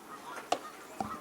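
Two short, distinct goose honks ring out about half a second apart, faint and distant, over the quiet outdoor ambience of a youth baseball game.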